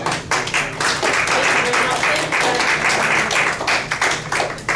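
Applause at a school board meeting for a committee, steady crowd clapping that fills the room at moderate loudness for several seconds, with some voices mixed in.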